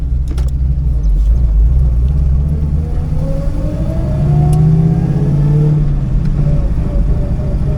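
Holden Torana car engine revving up and down over a steady low rumble, close and loud, with rising and falling engine tones through the whole stretch.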